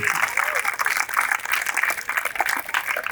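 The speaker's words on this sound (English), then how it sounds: "First, I want to give a round of applause for Kiran sir" Applause at a youth tennis and cricket prize distribution, a crowd of students clapping in a quick irregular patter, fairly near, with some voices and murmuring mixed in beneath the clapping.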